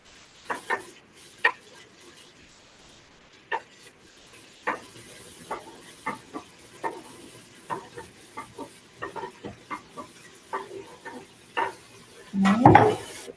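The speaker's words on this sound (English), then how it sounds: "all the pepper is nice and diced up, so I'm going to go ahead and add that to the pot as well" Diced peppers go into a pot for chipotle black bean chili, heard as a scatter of soft clinks and scrapes against the pot with faint sizzling, ending in a louder clatter.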